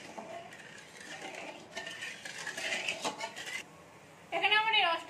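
A spoon stirring sugar into syrup for Bengali lobongo lotika sweets, giving light scraping and clinking against a bowl in uneven strokes, with someone speaking briefly near the end.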